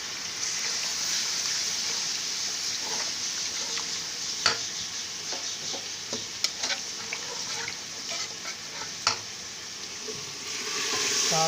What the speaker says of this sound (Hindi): लोबिया भी भून रहा है।